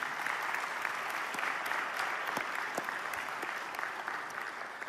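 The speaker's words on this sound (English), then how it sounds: "I would just like to have a round of applause for the people who've been with us" Sustained applause from a dinner crowd at a tenth-anniversary celebration, steady and dense with individual claps standing out throughout, no talking over it.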